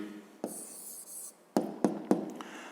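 A pen writes an answer by hand on paper during a 5th-grade maths exercise, heard as close, faint scratching strokes followed by three sharp taps, with no talk.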